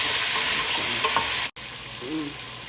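Potatoes and carrots fry in a pan with a loud, steady sizzle, broken by a momentary cut midway, while a few stirring knocks sound near the start.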